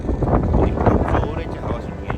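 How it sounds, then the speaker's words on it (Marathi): Strong, cold wind on a hilltop at the Saputara hill station in Gujarat, a steady, loud roar buffeting the microphone throughout, with faint voices mixed in. "आपण या हवेचा आवाज या व्हिडिओमध्ये स्पष्टपणे ऐकू शकता की किती जोरात ही हवा आहे"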